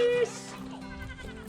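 Goats being trained on an electric fence at pasture give a short bleat at the very start, loud and close, then fade into a low murmur of voices and outdoor background.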